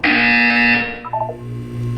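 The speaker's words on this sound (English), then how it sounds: "When you hear the buzzer, look down at the floor." Portal 2 video game buzzer: a loud, steady electronic buzz lasting under a second, followed by a few short descending beeps and a low lingering hum, with no voices.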